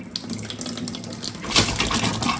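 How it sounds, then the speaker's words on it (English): Water spluttering and gushing from a household tap in a UK home just after the stop tap is turned back on, a steady loud splashing rush with irregular bursts as air clears the pipe. "This is going to splutter everywhere."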